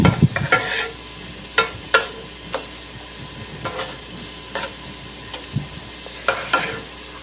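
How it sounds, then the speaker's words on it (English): Beef stroganoff stirred in a hot skillet, a spoon scraping in several distinct strokes over a continuous close sizzle, no voices. "I'm going to give it a good stir."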